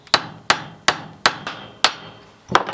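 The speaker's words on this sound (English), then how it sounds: "I'll hit it with a body hammer that has like a punch style on it." Sharp metallic hammer strikes from a punch-style body hammer on car metal, six evenly spaced blows then a final ringing hit, loud and close with short decays.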